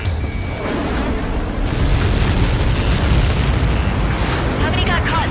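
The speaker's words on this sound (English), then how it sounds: "How many got caught in that explosion?" A missile explosion in the Ace Combat 7 video game booms with a heavy, rumbling blast that rolls on for several seconds, loud and close, with faint radio-style voices and game effects around it.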